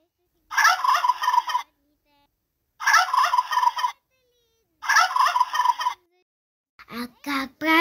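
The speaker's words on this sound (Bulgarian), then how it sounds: "А как казва пуяка?" Turkey gobbling in three loud, close, rapid rattling bursts separated by short silences, followed by a few higher bird-like calls at the end.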